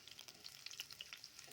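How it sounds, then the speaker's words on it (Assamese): Onions and green chillies frying in oil in a wok, with bright crackling pops over a steady sizzle and quick stirring, close but fairly quiet. "পিঁয়াজখিনি অকণমান ভাজি লৈছোঁ"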